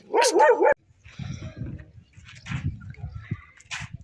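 A sharp yelp or bark up front, then a rough mix of low growling and scuffling from dogs fighting in a village, with occasional higher yips, fairly distant.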